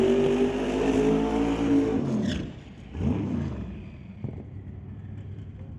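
A 1960s Camaro drag car at an old-time drag racing event fires up and roars loudly up close, holding a heavy rumbling idle, then dips and revs again with a rising snarl before settling back.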